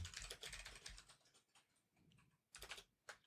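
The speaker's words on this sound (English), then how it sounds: "So right now we got some people typing things in." People typing on computer keyboards, with quick clusters of soft clicking keystrokes in irregular bursts and short pauses, fairly quiet and with no voices.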